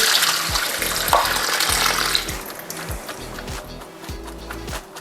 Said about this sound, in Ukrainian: Підготував такий маленький друшлачок, зливаю туди цибулю.